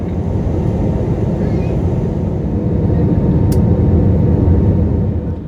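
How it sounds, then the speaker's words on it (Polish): An airliner approaching landing at San José, Costa Rica, heard from inside the cabin as a loud, steady low engine roar that fills the whole moment, with a faint brief chime. "Podchodzimy właśnie do lądowania w San Jose w Kostaryce"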